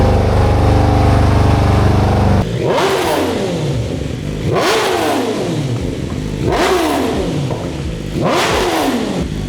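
A 2025 BMW S1000RR sport motorcycle with its stock exhaust barks through several sharp, loud revs that rise and fall one after another, following a steady droning hum.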